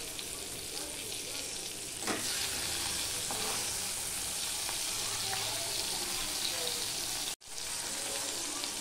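Pieces of sing fish (stinging catfish) frying in hot oil give a steady, dense sizzle that runs almost unbroken, with a few soft clinks of a utensil and one brief dropout near the end.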